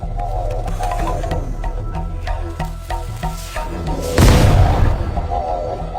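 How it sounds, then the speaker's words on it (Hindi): Firecrackers set alight and bursting during a street confrontation in a Hindi-dubbed South Indian film, with a sharp, loud blast erupting near the end after a stretch of background music and rhythmic thumps. "पटाखों में आग लगा रहे हैं"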